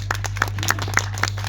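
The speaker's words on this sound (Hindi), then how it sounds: "इनके लिए जोरदार तालियां हो जाएं।" An audience applauds students on stage at a school Republic Day event, a short burst of a few distinct claps over a steady low hum.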